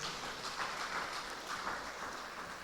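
Audience applause at a community event, a steady wash of clapping that stays even and fairly distant throughout, with no voices over it.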